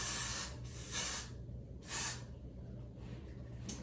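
Aerosol hair spray misted onto a hairline in a few short hissing bursts, close to the mic, over a steady low hum.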